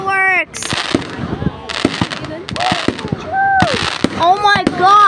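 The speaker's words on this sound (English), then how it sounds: "Look at all those fireworks! Going really high!" Fireworks at Pounawea go off in sharp, separate bangs and crackling bursts, interspersed with whistling rising launches, while people nearby shout and talk over them.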